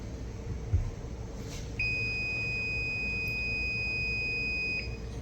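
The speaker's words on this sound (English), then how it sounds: "Within about 3 seconds, it should start beeping different because it's rebooting." A UFO-Sense tracking device rebooting gives a brief low tone, then a steady, thin, high electronic beep that runs unbroken for about three seconds before stopping, faint and alone in a quiet room.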